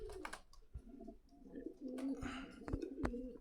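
Racing pigeons in cages at a bird market coo in low, rolling, repeated calls, fairly close, with a few sharp knocks and rustles around them.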